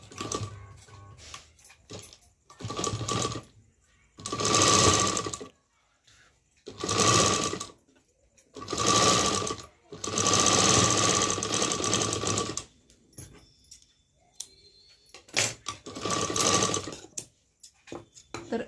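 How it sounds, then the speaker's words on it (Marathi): A sewing machine runs straight stitching on a princess-cut blouse in repeated loud mechanical bursts of a few seconds each, separated by short pauses, close up. "अशी स्ट्रेट शिलाई करून घ्यायची."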